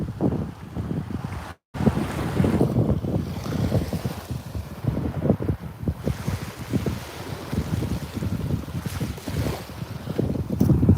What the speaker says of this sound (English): the wind has probably dropped a little bit now